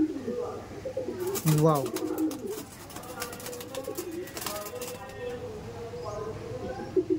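Madrasi pigeons cooing in a loft, soft low coos surfacing between a man's close-up talk and an exclamation, with faint rustling around them.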